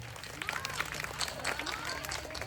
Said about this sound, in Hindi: एक जोरदार ताली सर के लिए